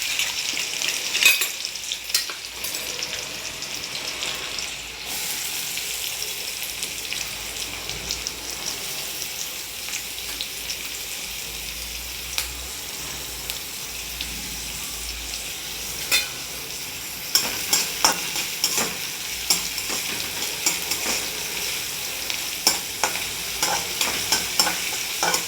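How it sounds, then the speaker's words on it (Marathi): Chopped onion with mustard seeds sautés in hot oil for a soybean pulao, a steady soft sizzle with occasional clinks and scrapes of stirring that grow more frequent toward the end, with no talk. "कांदा चांगला लाल होईपर्यंत परतायचा आहे."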